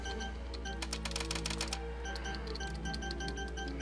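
Quick bursts of computer keyboard typing, rapid clustered clicks near the start and sparser taps later, sit over a steady low hum.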